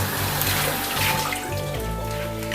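Tap water runs steadily over lettuce being rinsed, a close, full splashing gush that changes as the leaves move under the stream, with no talking.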